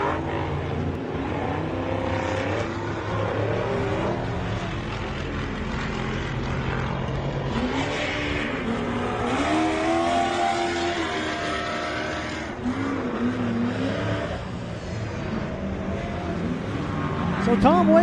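Off-road race car at the MetalCloak Stampede pulling back onto the course, its engine droning and revving under continuous commentary, rising slightly louder toward the end.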